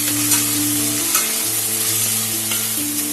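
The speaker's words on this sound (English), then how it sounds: "And then you stir everything together." Onion, whole garam masala and sugar fry in oil as a curry base for malai egg curry, making a loud, steady close-up sizzle with stirring scrapes and a low constant hum beneath, no talking.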